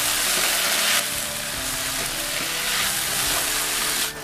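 Chicken broth poured into a wok of stir-fried long beans sets off a loud, steady sizzle and crackle that runs the whole time, with light stirring scrapes and no voices.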